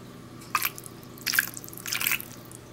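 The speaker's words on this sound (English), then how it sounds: "I'm adding a little water. A little bit of water in here," A small amount of water added to a pork shoulder in a cooking pan, heard as three brief close splashes and drips spaced about a second apart over a quiet background.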